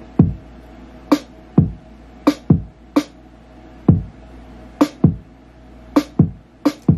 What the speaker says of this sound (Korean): 내가 골랐던 그 샘플에 어울리는 드럼 소리가 있는 거예요